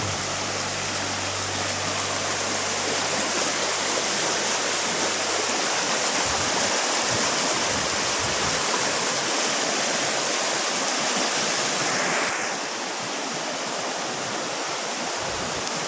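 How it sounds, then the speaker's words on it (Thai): A forest stream flows steadily nearby in deep woods, a loud continuous rushing and babbling of water that fills the whole stretch without a pause. "กำลังจะข้ามแม่น้ำไปครับข้ามลำธารไป"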